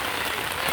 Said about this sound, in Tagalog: Inabot na kami ng ulan